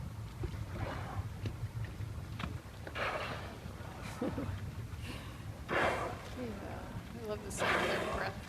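Orcas surface and exhale in several breathy blows spread across the stretch, heard from a boat over wind noise and people talking.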